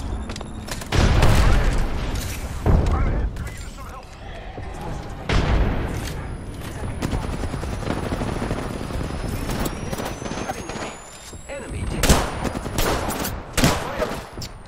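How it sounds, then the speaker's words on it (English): An airstrike in the battle-royale game Apex Legends, with heavy explosions and dense rattling gunfire coming in repeated loud bursts and a high whine overhead, while a player talks through it. "Calling the airstrike."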